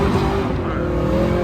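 Cars racing at a street car meet, engines roaring loud and close in a steady sustained drone with a faint tire hiss.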